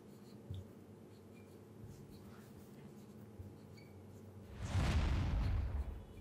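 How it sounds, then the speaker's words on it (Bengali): A pen writes out a line of a math solution on paper: faint scratching throughout, then a louder, closer burst of strokes for about a second near the end. "আগে এই লাইনটি লিখে নিচ্ছি"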